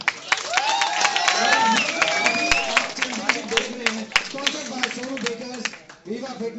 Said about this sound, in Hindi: बहुत बढ़िया, एक बार जोरदार तालियां हो जाए।